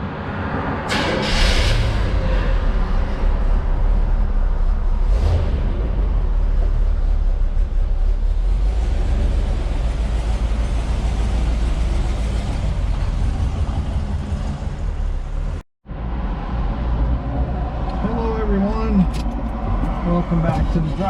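A 1973 Corvette convertible with a 454 engine rumbles steadily nearby as it is pulled out and driven, a low continuous drone with a brief cutoff near the end. Someone talks over the engine noise.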